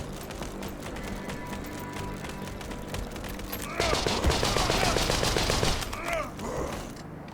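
Mounted machine gun turret firing in the World War I trench game Conscript, a sudden burst of rapid automatic fire erupting midway over low ambient battle noise, loud and close, then stopping and trailing off into a couple of mechanical clanks.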